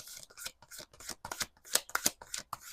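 Tarot cards shuffled by hand in a series of quick riffling bursts, each a short crisp flutter, with brief gaps between them and no talking.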